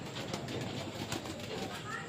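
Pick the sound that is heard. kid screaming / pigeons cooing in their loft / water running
pigeons cooing in their loft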